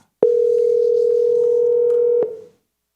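A telephone dial tone hums as a call is placed, a loud, close, single unbroken tone lasting about two seconds, cut off by a click and then fading out.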